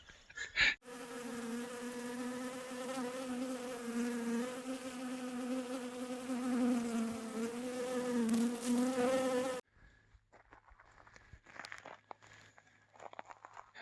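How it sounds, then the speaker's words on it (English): Bees buzzing outdoors near a large tree, a steady loud insect drone holding for about nine seconds before cutting off, followed by faint scattered outdoor rustles. "They're doing a lot of buzzing."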